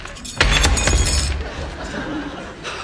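The mirror glass of an old Regency wardrobe shatters with a close, sharp crash followed by tinkling debris over low background noise.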